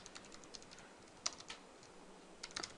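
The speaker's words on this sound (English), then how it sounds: "we just go ahead and type the class name and some object like BO" Soft, quick clicking of a computer keyboard as C++ code is typed, faint and close, with irregular bursts of keystrokes and brief pauses.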